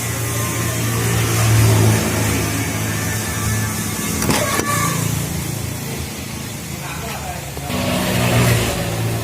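An old 1985–86 car with an injection pump in need of service runs with a steady low engine drone that swells into revs, with people talking over it.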